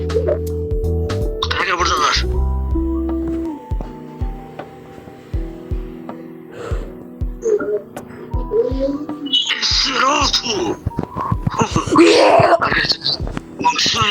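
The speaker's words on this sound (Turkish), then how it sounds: "Garip çığlıklar." Strange wailing screams from a video game ring out in bursts, several loud high cries with moaning tones over low game music and thuds, while someone talks at times.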